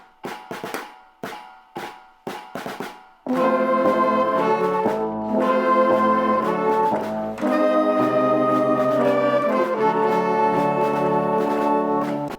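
A middle school band's virtual concert mix built from individual SmartMusic recordings: a few short staccato ensemble hits, then full sustained chords from layered wind parts playing steadily and fairly loud, with no voices.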